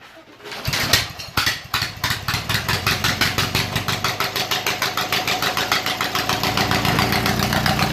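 A Murray small engine running at full throttle, loud and close, with a fast, even chugging pulse that sputters unevenly at first and then settles into a steady beat.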